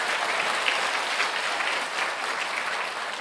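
Congregation applause during a Korean church talk, a continuous wash of many hands clapping at even strength, with no voices above it.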